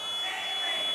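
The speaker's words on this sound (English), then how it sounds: "That is just a fire alarm." A fire alarm in a volleyball gym gives one steady, loud electronic buzzing tone that holds unbroken from start to finish.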